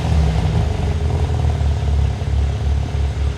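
A car engine starting in comfort mode settles into a loud, deep, steady burbling idle with a low rumbling throb, close by and with no talk over it.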